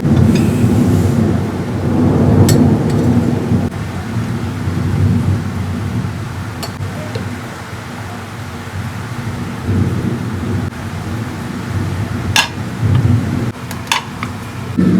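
A downpour with thunder rolls on without a break, the rain hissing loudly while low rumbles swell and fade and a few sharp cracks or clatters break through.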